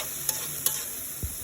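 Potatoes and lentils sizzle in a hot pan while a spoon stirs them, giving a steady frying hiss broken by a few sharp scraping knocks against the pan.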